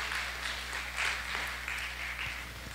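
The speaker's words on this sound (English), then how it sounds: "Big round of applause." A church congregation at a Sunday communion service claps together, a sustained wash of applause with slight swells, moderately loud over a low steady hum, with no voices.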